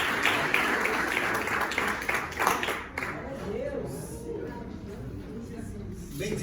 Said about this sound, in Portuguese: Vamos receber com palmas aí, meus irmãos.